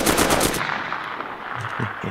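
Video game gunfire erupts as a rapid automatic burst of loud shots, then fades into softer background game sounds.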